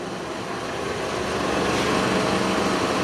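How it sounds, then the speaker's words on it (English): A steady, loud mechanical whir of a large engine exhaust ventilation fan running continuously, broadband and droning, with no voices over it. "that turns on the big fan that you can hear right now"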